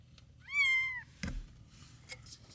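Newborn kittens mew, a single clear high-pitched cry up close, followed by faint rustling and a few soft sounds.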